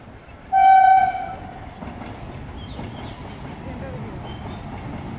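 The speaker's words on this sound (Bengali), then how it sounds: "আর এই যে ট্রেন ঢুকবে, দেখবেন ট্রেনের লাইনটা এখানে কাছেই আছে" A passenger train arriving on a nearby railway line gives one loud, close horn blast lasting about a second, followed by a continuous rolling rumble of wagons on the track.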